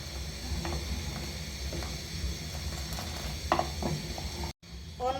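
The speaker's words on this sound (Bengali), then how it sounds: "অনবরত নাড়তে হবে, দুধটা যেমন সেটা লেগে না যায়।" Milk with powdered milk and cardamom being stirred continuously in a pot while it cooks down for kulfi, a steady bubbling hiss with soft scraping strokes, then a brief dropout near the end.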